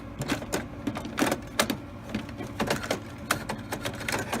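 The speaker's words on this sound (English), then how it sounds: "you're going to want to go ahead and put your print head back" HP Officejet 8615 printhead sliding back into its carriage inside the printer, heard as a run of close plastic clicks, taps and scrapes in an irregular rhythm, fairly quiet and with no talking.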